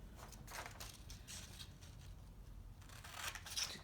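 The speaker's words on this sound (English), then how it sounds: "I use my scissors" Scissors snip through paper to cut out a small triangular beak for a paper turkey placemat, with a handful of close, crisp crunching cuts in an irregular rhythm.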